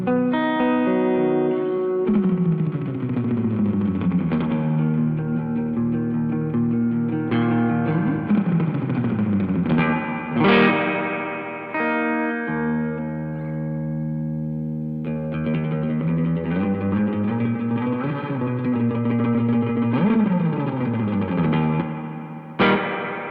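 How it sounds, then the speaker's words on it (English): Guitar chords ring out through a DigiTech Supernatural ambient reverb pedal, each strum swelling into a big, lush, swimmy wash that decays slowly, with repeated sweeping notes and no talking. "obviously this is a ambient verb, which says on the front, and it does all the big, lush, swimmy kind of things"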